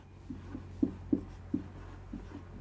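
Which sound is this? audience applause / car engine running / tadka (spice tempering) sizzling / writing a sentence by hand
writing a sentence by hand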